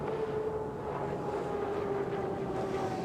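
Tennessee Orange U40 hydroplane race boat at the Guntersville Hydrofest, a steady distant engine drone under throttle with a faint rising whine, broad wind and water noise, no voices.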